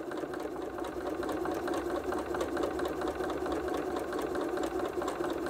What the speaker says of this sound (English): We're going to sew this one through.